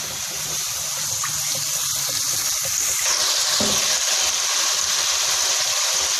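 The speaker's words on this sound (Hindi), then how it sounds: "अब इसके अंदर 1 कप ऑयल डाल देंगे।" Steady liquid gush of a cup of cooking oil pouring into a pan with a faint sizzle, continuous and fairly loud throughout, no voices.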